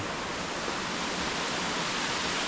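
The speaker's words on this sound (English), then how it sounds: "that's the top of the waterfall." Steady, dense roar of the waterfall on Western Creek in the Border Ranges, heard from near the top of the fall; loud, continuous rushing water with no voices.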